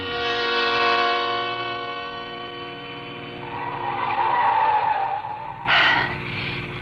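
A car speeds along a steep mountain road, engine droning steadily close up as tires skid and squeal, with a sharp louder screech near the end, staged as a radio drama sound effect.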